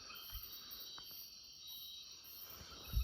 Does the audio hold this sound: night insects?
yes